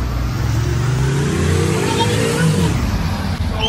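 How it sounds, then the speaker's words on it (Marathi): A convoy of about 120 vehicles sets off toward a temple, a continuous close rumble of engines and rolling traffic with revving, while someone talks over it. "चला काही आम्ही निघलोय आता 120 गाड्या घेऊन."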